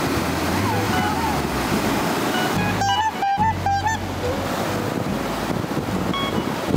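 Ocean waves washing onto a beach at San Juan, La Union, a steady broad rushing roar mixed with wind buffeting the microphone, with a short burst of voices partway through.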